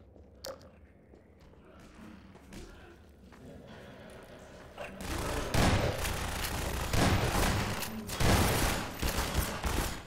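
Gunfire in the Half-Life 2 video game bursts in rapid, crackling volleys that grow louder and denser midway, with someone talking over the shooting.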